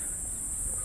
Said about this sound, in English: I can hear that cicada.